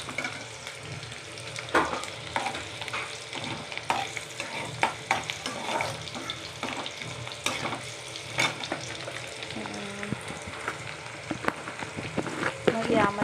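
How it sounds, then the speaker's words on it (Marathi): Soybean chunks sautéed in a hot pan, the spoon scraping and clacking in a busy irregular rhythm over a constant sizzle, near and moderately loud throughout, with a brief faint voice mixed in. "थोडासा लालसरपणा येईपर्यंत याला परतायचं आहे."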